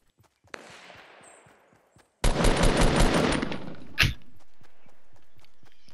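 Assault rifle fire in the video game Fortnite: a loud, rapid burst of automatic shots lasting under two seconds, followed by a single sharp report, with quieter game ambience and faint clicks around it.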